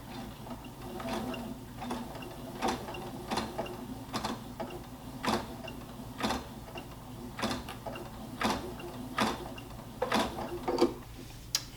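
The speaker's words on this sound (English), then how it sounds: "And then we're gonna sew slowly" A sewing machine stitches slowly along a baby hat band, producing a series of quiet, regular mechanical ticks and clicks with no talk.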